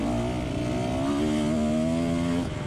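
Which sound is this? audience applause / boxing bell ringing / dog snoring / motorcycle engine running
motorcycle engine running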